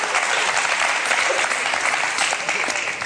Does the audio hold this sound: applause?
yes